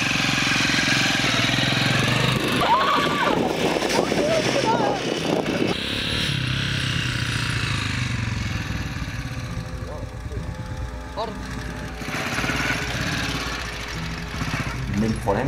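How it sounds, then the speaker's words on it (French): A motorcycle engine runs with a steady, rough mid-range drone, revving unevenly near the start and then settling. Speech can be heard over it. "Lui, il m'a expliqué à faire de la moto."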